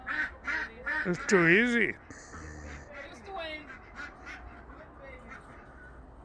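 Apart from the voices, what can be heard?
birds quacking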